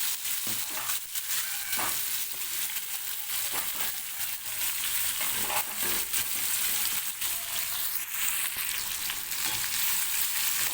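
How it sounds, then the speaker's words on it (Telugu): Mango peels sizzle and fry in hot oil in a pan for pickle, a steady close crackle running through the whole clip with occasional stirring. "ఇవి వేగినవి ఇందులో మనం ఈ మామిడికాయ తొక్కలు వేసేస్తున్నాము"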